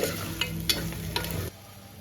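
Ginger garlic paste fries with mutton legs in a pan, giving a steady close sizzle broken by a few quick scraping stirs before the sound drops quieter near the end.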